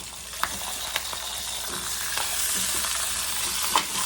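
Pork chops searing in a hot pan for Creole pork chops, a steady close sizzle with a few scraping clicks as the meat is moved around, and no talking.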